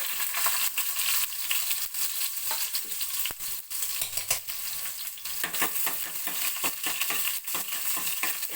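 Loud, close sizzling and crackling of shallots frying in hot oil after mustard seeds, with frequent sharp pops and spatters over a steady hiss.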